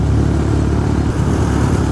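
A Honda Megapro motorcycle with a bore-up engine pulls hard while being ridden around town, its steady, loud mid-range engine drone running continuously with wind rush and no talking.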